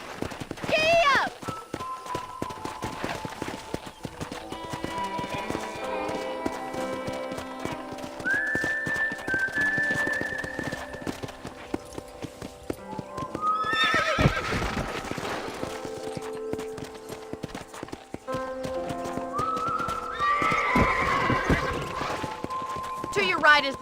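Horse hooves clip-clop at a steady gallop through a frontier town in Red Dead Redemption, with occasional whinnies, set against music and a voice talking over the riding.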